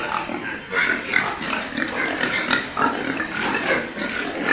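Pigs on a farm grunting and snuffling continuously at close range, a dense overlapping chorus of low grunts with occasional louder squeals, no voices over it.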